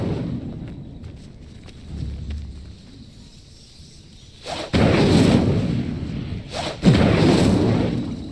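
Incendio fire spell cast in the Hogwarts Legacy video game, heard as two loud, close bursts of whooshing flame with a rumbling, boom-like body, following a quieter stretch of low rumble.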